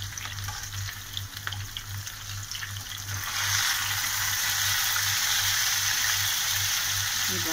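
Spiral potatoes frying in hot oil give a steady close sizzle that swells louder and denser about halfway through, with a low continuous hum beneath and no talking.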